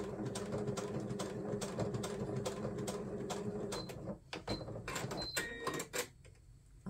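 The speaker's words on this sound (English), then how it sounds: "We're just doing a plain old straight stitch straight down." Sewing machine running a plain straight stitch down strips of fabric, with a steady fast mechanical chatter that stops after a few seconds and gives way to small clicks and handling noises, close by with no talking.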